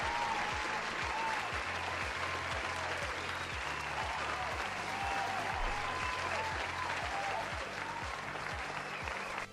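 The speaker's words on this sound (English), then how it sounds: "Let's give them a round of applause." Continuous, even applause from an audience fills the whole stretch at moderate loudness, with a rhythmic low thumping beat running beneath it.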